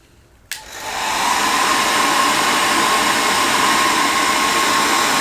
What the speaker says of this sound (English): it's going to get noisy because it's a hairdryer